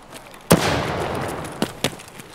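A single sharp shotgun blast in Escape From Tarkov rings out and decays into a rolling echo, followed by two quieter distant reports.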